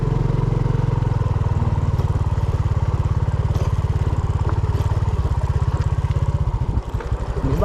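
Motorcycle engine chugging steadily and loud up close while riding a rough, bumpy dirt road, with a rhythmic low throb and clattering that shifts near the end.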